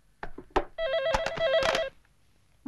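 A telephone rings in a Hong Kong comedy film scene, a steady electronic warble of repeated trilling tones, loud and close, after a few brief knocks and before a voice starts.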